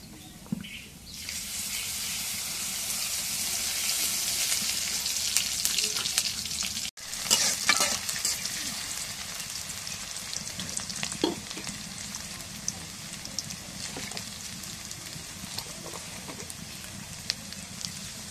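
Sliced onions fry in hot oil, a close, loud crackling sizzle with scattered pops and stirring scrapes that settles into a steadier bubbling hiss.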